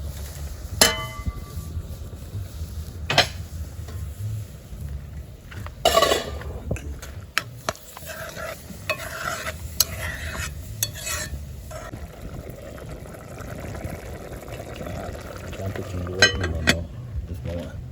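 Jamaican saltfish rundown with string beans is stirred in a pot, with intermittent spoon scrapes and sharp clanks against the metal over a soft simmer, while someone talks throughout.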